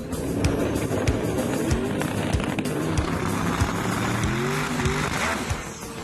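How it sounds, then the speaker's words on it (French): A race car engine revs and whines through shifting pitches as it climbs a sand dune hill in Abu Dhabi, with sharp bursts and crackles from nearby before the engine fails. "Grosse déception, le moteur a flanché."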